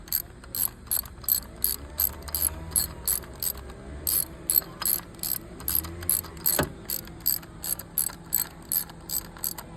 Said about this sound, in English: So we're gonna go ahead and just tighten them up and then repeat the process